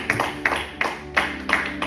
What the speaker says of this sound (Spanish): dale un fuerte aplauso al Dios de los cielos